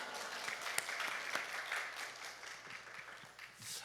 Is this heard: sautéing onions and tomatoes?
no